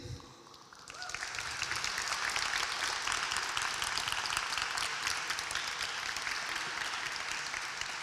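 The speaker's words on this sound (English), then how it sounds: "give a round of applause to one of the leading journalists and writer, Wechimei." An audience at a Somali Week Festival launch event breaks into applause after a short quiet moment, then sustains an even, fairly distant clapping that runs to the end.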